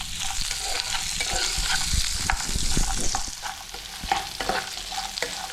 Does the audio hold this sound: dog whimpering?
no